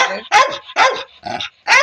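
A dog barks loudly and close, five sharp barks in an uneven rhythm with brief silences between them.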